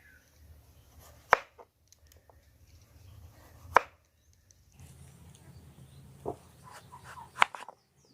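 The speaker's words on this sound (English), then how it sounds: "so I'll go to the next stage, which is slicing" A knife chops through raw potatoes for homemade french fries: four sharp, distinct cuts hitting the board at irregular intervals, close and clear over faint background rustling.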